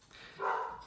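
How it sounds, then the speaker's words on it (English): A single short dog bark, brief and at moderate distance, rising out of quiet room tone. "Dog's barking."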